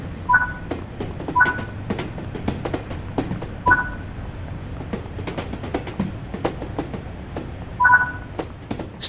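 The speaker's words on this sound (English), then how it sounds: "Stand on the platform and wait for this train to arrive." A train pulls into a station platform in Train Sim World 3 with an LMS Stanier Class 8F steam locomotive, clattering rail clicks and knocks, with periodic short two-tone beeps repeating over the rolling noise.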